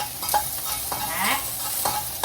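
Onion frying in a pan for ginisang sikwa gives a steady, close sizzle, punctuated by several sharp spatula scrapes and knocks as it is stirred, with no speech.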